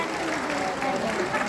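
Audience applause for Ibu Inah Rahman, Secretary General of APRI, at a company Halal Bihalal gathering; a steady, dense wash of clapping fills the moment, with a voice speaking over it.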